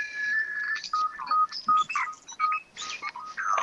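A mobile phone going off during a tabletop Dungeons & Dragons session: a run of short electronic tones and beeps, bright and fairly loud, shifting in pitch in a quick stuttering pattern with no talking over it.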